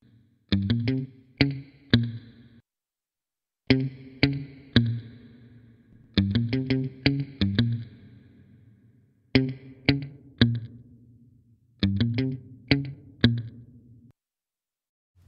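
Bursts of chord stabs processed through the RE4ORM FX plugin's reverb, each group of sharp attacks trailing off into a short decaying tail, repeating in regular phrases separated by silences.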